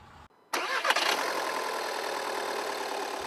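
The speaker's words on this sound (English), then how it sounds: "That's the new sound of diesel, clean diesel" A 2009 Volkswagen Jetta TDI clean turbo diesel starts with a sharp crank and catch, then settles into a steady, even idle heard up close without speech.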